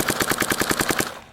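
A Dye DSR+ paintball marker fires a fast, even burst of about ten shots in roughly one second, close and loud, with no talk.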